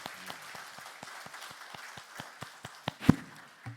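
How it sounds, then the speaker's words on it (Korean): A church congregation at a worship service gives scattered, fairly quiet applause, with individual claps standing out in an uneven rhythm and one sharp, louder clap near the end. "우리 주님께 영광의 박수 다시 한번 올리겠습니다."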